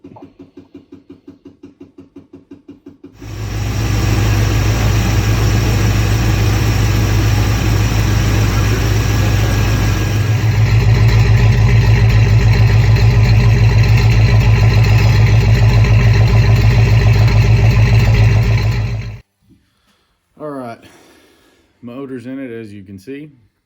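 A car engine with a freshly swapped motor starts up inside a closed garage and runs at a loud, steady, close rumble for about fifteen seconds before shutting off, followed by someone talking.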